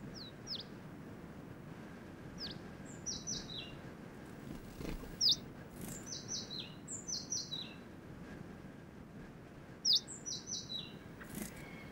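A pollinating bird on the Canary Islands sings in short, high chirping phrases repeated every few seconds over a constant low rumble of wind or distant ambience.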